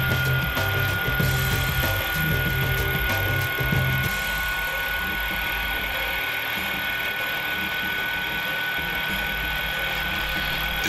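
A CNC Baron milling machine with a cast iron body runs steadily, giving a continuous mechanical whir and hum with a shift in tone partway through.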